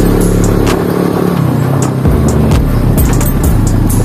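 A Spark SP125C-2C moped engine revs loud and close, its pitch climbing and falling through several throttle blips as it rides toward a quarry.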